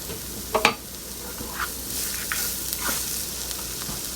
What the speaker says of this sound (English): Garlic, you don't want to burn it, so let it saute up.